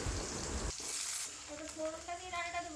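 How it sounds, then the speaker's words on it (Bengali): Diced potatoes fry in hot mustard oil in a wok, a steady close sizzle with a sharp burst of hiss partway through and some tonal clinks later. "কড়াইতে তেলটা গরম করে নিয়ে আলুগুলোকে ভেজে নিচ্ছি"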